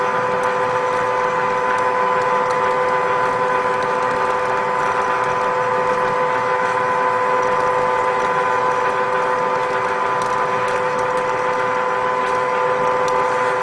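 A Ridgid 1224 power threading machine cuts threads onto a steel pipe, giving a steady, loud mechanical drone with a constant tonal whine and ratcheting grind that runs throughout, with no talk.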